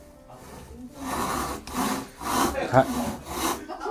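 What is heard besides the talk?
hand saw cutting wood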